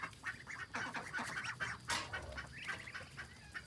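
Indian Runner and Muscovy ducks call together in a busy poultry yard, a steady overlapping stream of quacks and honking cries close by, with no talk.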